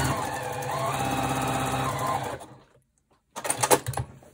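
A sewing machine runs in a steady continuous whir for about two seconds while stitching borders onto a small quilt block coaster, then stops into near silence, followed by a short burst of handling clatter.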